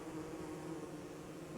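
Bees in Don't Starve Together drone in a steady, close insect buzz that holds evenly without pause.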